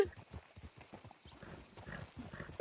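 Horse hooves clip-clop in the western roleplay video game WildRP, a quick rhythmic run of soft hoof beats at moderate distance, with quiet voices talking faintly underneath.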